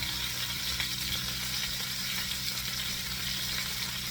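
Chicken for scaloppine browning in a pan, a dense, steady sizzle and crackle heard up close and fairly quiet, with occasional light stirring and no talking.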